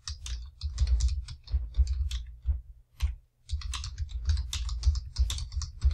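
Rapid clicking keystrokes on a computer keyboard, typed close up in quick bursts with a brief pause midway, and no talking.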